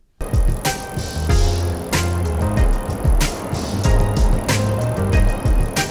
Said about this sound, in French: le volume du vélo est un petit peu haut